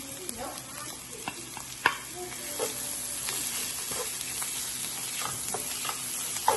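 Goat fat and curry leaves frying in a pan for a goat blood dish, a steady close sizzle broken by sharp pops and spatters, with stirring scrapes and no talking.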